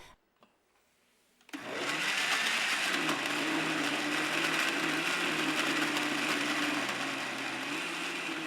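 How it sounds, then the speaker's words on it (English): Electric blender whirring through spice paste mixed with water, starting abruptly after a brief quiet moment and then running as a loud, steady, high-pitched motor drone until the end. "Now blend everything together until you have a well-mixed liquid paste."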